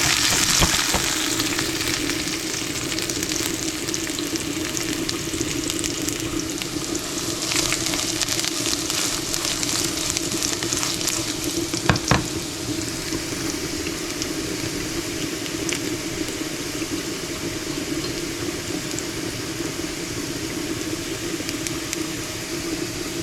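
Food fries in a pan with a continuous close sizzle and crackle, a steady bubbling texture with a brief clatter midway.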